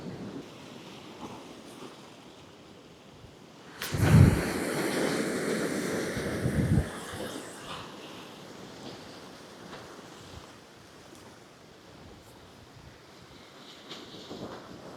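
Surf and gusting wind on the North East coast in winter, with a low steady roar of waves and buffeting wind against the microphone. A louder crash swells up midway and then eases back into a constant hiss.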